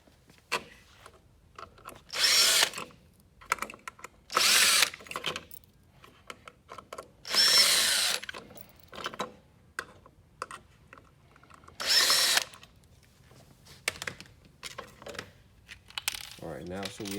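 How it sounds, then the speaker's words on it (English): A power drill spins out four screws holding a plastic cover on a hydraulic bed's pedal pump, sounding as several short whirring bursts with small clicks and metallic rattles in the quiet gaps between them. "we're gonna go ahead and open up all these 4 screws to remove the plastic cover from the pedal"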